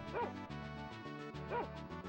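A wolf barking in the video game Tales of Phantasia, two short yipping barks spaced apart over a steady game music bed.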